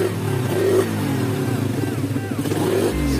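Motorcycle with an aftermarket exhaust pipe revving, a loud, close, steady engine drone with rising and falling revs across a few seconds.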